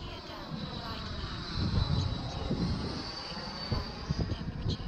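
A 1:8 scale RC Skymaster twin EDF jet model makes a low, slow gear-down pass, its ducted fans giving a steady whining rush that swells slightly as it goes by, with wind noise underneath.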